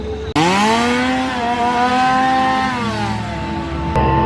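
Loud, high-pitched chainsaws rev together in a sustained, buzzing roar with rising and falling pitch, close by at a theme park Halloween event, with no talking.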